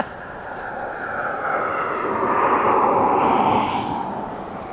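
A jet airliner's engines roar at East Midlands Airport, a broad steady rush that swells louder through the middle and stays fairly distant, with wind blowing across the scene.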